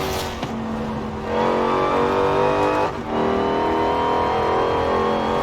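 A Dodge Challenger Hellcat Redeye Widebody in Forza Horizon 4 roars loudly as its engine revs and accelerates, with a brief dip in throttle before it surges again.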